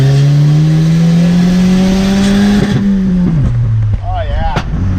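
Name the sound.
Volvo with BMW engine accelerating hard in second gear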